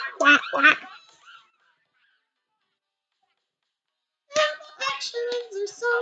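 A human voice imitates a duck, with a quick run of nasal quacks, a silent pause, then another longer string of quacking sounds.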